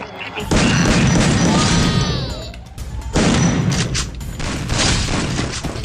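Grenade blasts in the Free Fire video game: two loud, sustained booming bursts with crackling debris, the second starting around the midpoint, with no speech over them.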